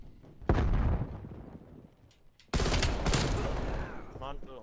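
Gunfire in the video game Call of Duty Black Ops Cold War: two loud bursts of rapid shots, the second longer and sustained, separated by a quieter gap, with no talking.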